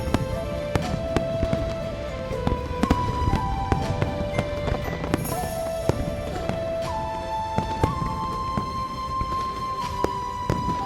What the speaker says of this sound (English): The fireworks are too loud.